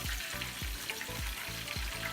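Buttermilk-battered chicken drumsticks and thighs fry in hot oil with a steady, even sizzle and no talk, joined by a faint rhythmic thump that repeats about every half second.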